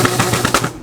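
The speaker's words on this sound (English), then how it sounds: "Why is it backfiring?" A 600bhp Toyota Supra with anti-lag backfires: a rapid, loud volley of sharp pops and crackles over the engine note, close by.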